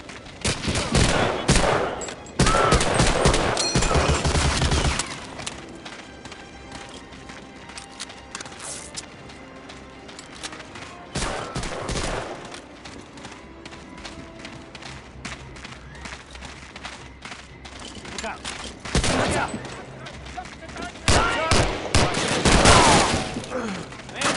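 Gunfire rings out in Medal of Honor: Allied Assault, with loud, dense volleys at the start, again around the middle and toward the end, separated by quieter stretches of scattered shots and ambient game noise.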